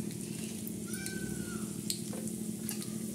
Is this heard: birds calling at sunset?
no